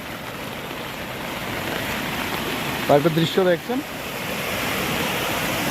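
Floodwater from the swollen Muhuri river rushing across a paved main road near Belonia, a steady roaring wash of water heard close and loud, with someone speaking briefly over it.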